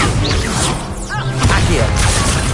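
Magical spell-casting effects from a Harry Potter video game: a rush of whooshing swishes and a crash-like burst, with layered swirling tones, loud and continuous throughout, with voices speaking over them.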